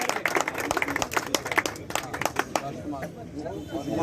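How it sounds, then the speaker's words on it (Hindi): Loud applause from an audience at a ceremony honouring a pigeon-flying tournament record, with sharp clapping bursts and crowd chatter mixed in, fading slightly toward the end. "जोरदार तालियां।"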